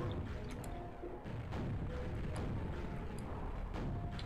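Rocket launcher explosions in the Quake video game rumble as deep, muffled booms with a few sharper thumps, heard fairly quietly over a continuous low roar.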